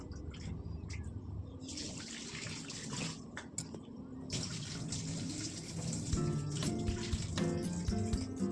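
Water runs steadily from a kitchen tap while raw chicken is rinsed for a home-cooked New Year meal, a continuous splashing hiss with occasional clinks of the pieces and vessel close by.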